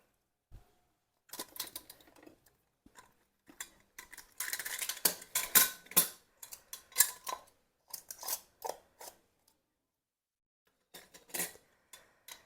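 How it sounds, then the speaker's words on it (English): Metal lids being screwed hand tight onto jars of strawberry habanero jam, a series of close, quiet metallic clicks, scrapes and rattles in irregular clusters with pauses between them, no talking. "you're just going to put the lids on just hand tight"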